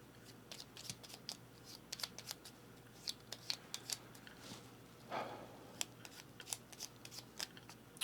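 Playing cards shuffled repeatedly for a solo board game, with a steady run of crisp riffling and tapping bursts at close range and no voices.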